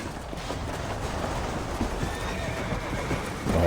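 A horse neighs and its hooves clip-clop in the video game Red Dead Redemption, with a loud whinny over steady hoofbeats and a quiet background.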